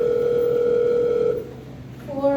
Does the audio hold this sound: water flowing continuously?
no